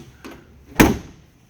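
A 1972 Ford Bronco door with slightly sagging hinge bushings slams shut once, loud and close, after a faint click from the latch.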